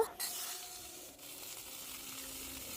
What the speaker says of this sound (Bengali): গ্যাসের মধ্যে এইখানে এই যে সিম ভাজাগুলো করে নিচ্ছি